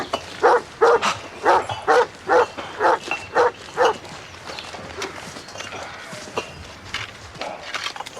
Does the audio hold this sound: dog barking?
yes